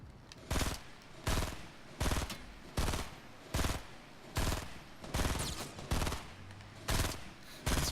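Gunfire from a gun in the Fortnite video game comes as regularly spaced bursts, each a short rattling volley about every second, quiet and evenly repeating.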